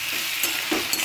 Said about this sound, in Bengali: সমস্তটা ভালো করে ভাজাভাজি করে নিচ্ছি